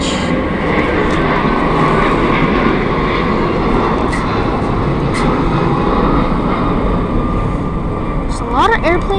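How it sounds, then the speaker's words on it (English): A loud, steady roar of an airplane engine fills the whole stretch, droning continuously overhead without a break. "There's a lot of airplanes passing by through this point."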